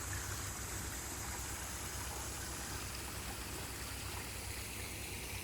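Steady, continuous rush of running water, like a small garden waterfall trickling and splashing, with no voices.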